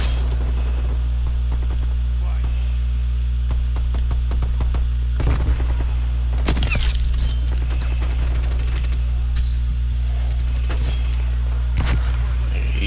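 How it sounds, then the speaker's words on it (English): AK assault rifle fire in Call of Duty Cold War, scattered sharp bursts and single shots over a constant game hum, with people talking over the action. "I'm gonna snap with the AK around."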